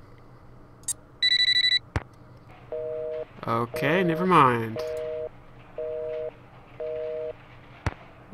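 Phone call in Nancy Drew: Phantom of Venice: repeated beeping busy-signal tones sound at a steady rhythm, with a brief ring-like tone early on, while a voice talks over part of it.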